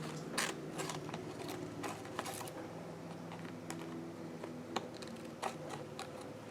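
Paper-cutting scissors snip all the way around three small composition books, a run of close, crisp clicking cuts and rustles with brief sharper snaps throughout, no talking.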